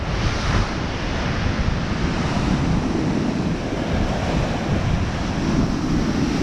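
Stormy sea waves crashing and surging at Blackpool near high tide, a loud continuous roar of surf mixed with heavy wind buffeting the microphone.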